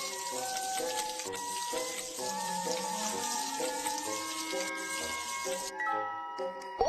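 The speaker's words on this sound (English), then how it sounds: "Rinse with clean water to cool the wound." Running tap water rinses a scalded arm during a first-aid scene in a Baby Panda earthquake-rescue game; a steady cartoon gush flows beneath bright game music throughout, then cuts off near the end.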